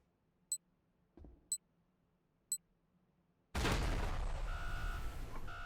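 A Syndicate minibomb in the video game Space Station 14 gives three evenly spaced, sharp electronic beeps about a second apart, then bursts into a loud, rumbling explosion that roars for a couple of seconds.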